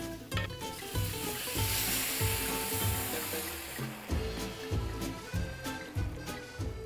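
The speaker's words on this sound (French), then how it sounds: "On va pouvoir maintenant déglacer avec le vin blanc." Pearly rice in a pan being deglazed with white wine, with a close, soft sizzle and stirring scrapes that pulse in a loose rhythm, fairly quiet with no talk.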